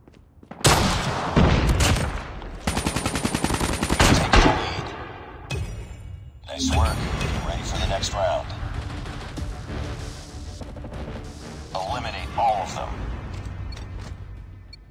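Rapid gunfire bursts in Call of Duty Mobile, dense volleys of shots in clusters across the span, loud and close, with game voices calling out between the bursts.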